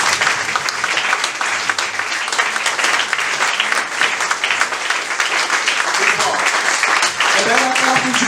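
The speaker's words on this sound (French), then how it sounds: "get to stand and give a hand of applause" A church congregation at a full gospel service claps and cheers in sustained, dense applause that holds steady from start to finish, with faint voices underneath.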